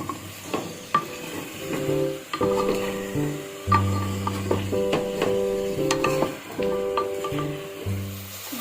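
Beans and carrots for a chicken stew are fried and stirred in a pan, with repeated scraping and clinking strokes over a soft sizzle and faint background music.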